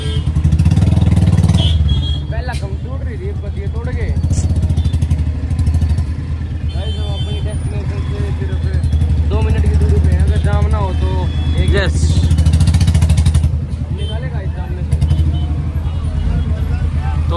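A motorcycle engine drones steadily while the bike rides along a road, loud and close throughout, with people talking over the engine noise.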